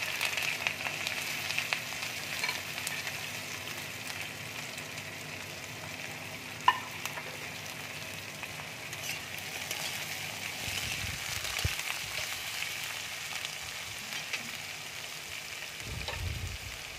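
Potatoes and onions fry in a pan with cumin seeds, a steady close sizzle running throughout with one sharp tick near the middle and occasional faint stirring.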